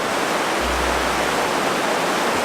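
River water rushes steadily through Zion's Narrows in Zion National Park, a dense, constant broadband flow heard up close with no break, along with a brief low rumble near the start.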